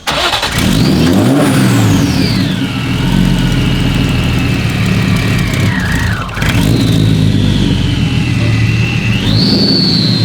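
Turbocharged BMW E36 engine running loud and close, idling with a rising and falling turbo whistle as the revs climb, dip briefly and climb again.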